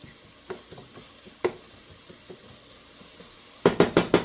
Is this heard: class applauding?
no